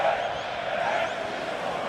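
Steady stadium crowd roar in Darmstadt during a Germany versus Spain under-21 football friendly, a broad sustained wash of many voices cheering the team with no single standout shout.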